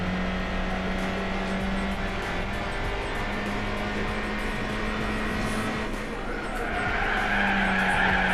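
Tires squeal in a long drift as a Renault Alpine race car slides in a one-make race in Gran Turismo 4, a loud sustained screech over the engine roar with someone talking.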